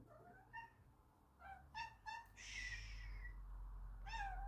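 A small domestic cat meows indoors, several short, rising calls spread across a few seconds, moderately close, with a steady low hum beneath and no talking.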